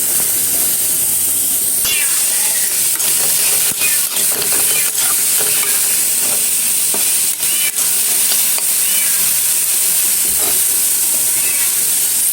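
Chopped onions sizzle in hot oil in a wok, a steady close crackling hiss with scraping stir strokes throughout, no voices.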